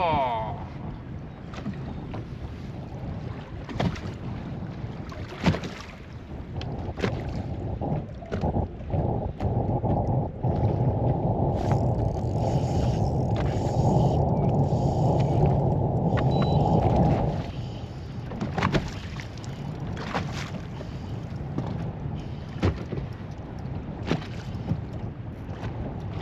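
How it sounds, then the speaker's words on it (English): Wind gusts across an open fishing boat out on the water in early spring off Door County, Wisconsin, a steady broadband rush swelling for several seconds and then easing, with a low hull and water rumble beneath and scattered knocks. "The wind is picking up."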